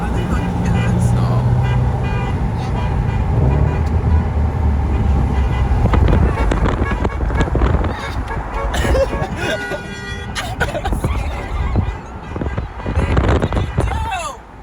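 Car horn honks sound in short bursts from inside a moving car on the road, mixed with traffic and engine noise while people talk loudly and laugh over it.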